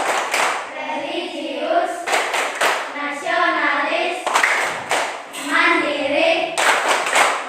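Children in a class chant in unison while clapping a rhythmic routine, with bursts of sharp group claps punctuating the chanted words at a steady beat, close and lively.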